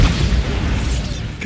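A Bombarda blasting spell detonates in Hogwarts Legacy with a loud, booming burst and rumbling debris. A sharp crack sounds near the end.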